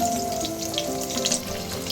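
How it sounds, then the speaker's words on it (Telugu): Eggs fry in a pan with a dense, steady crackling sizzle, close and fairly loud, with a faint hum underneath. "గుడ్లు వేగిపోయింది కదా"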